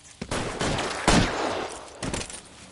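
A gunfire shootout in the video game L.A. Noire: a dense burst of loud gunshots, with a sharp crack near the middle and another volley toward the end.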